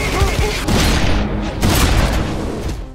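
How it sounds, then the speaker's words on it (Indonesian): A burst of gunfire in a film shootout scene: dense, loud overlapping shots and booms packed into a continuous volley with no gaps. "terjadilah aksi tembak-tembakan"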